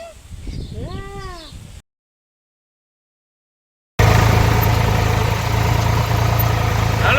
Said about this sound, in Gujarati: બે ટ્રેક્ટરો જો પંચિયામાં કર્યા હે ચાલુ